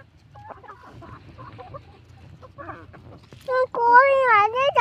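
Country chickens on a farm cluck in short scattered bursts with a voice chattering alongside, then a loud, close rooster-like call rises in wavering cries toward the end.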